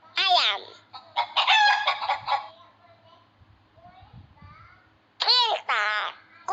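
A cartoon rooster crows in a children's educational animal video game, with several bright, shrill bursts spaced apart and quieter babbling sounds between them.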